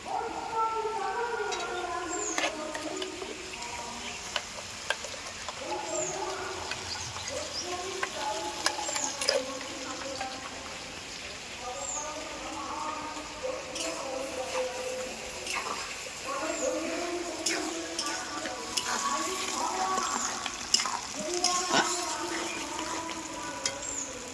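A spice paste sizzles in a pan with potatoes already fried reddish, stirred steadily for a Bengali paneer dish, producing a continuous close frying hiss broken by scraping and stirring strokes throughout.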